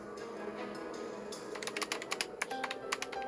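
Keyboard typing effect from the Life Makeover video game, a quick irregular run of clattering keystrokes that builds over a steady background tone, no voices.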